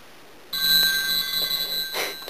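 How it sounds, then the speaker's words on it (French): A telephone rings during a live cooking session, a loud, bright, continuous electronic bell starting abruptly and sustained at close range without talk. "Le téléphone, ce sont les aléas du direct."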